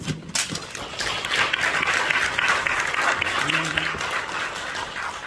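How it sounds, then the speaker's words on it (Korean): Warm applause from a congregation at a Korean Christian national prayer meeting, welcoming a speaker to the pulpit; steady, dense clapping fills the hall for several seconds at close range. "우리 나오실 때 환영하는 의미로 박수로 환영하겠습니다."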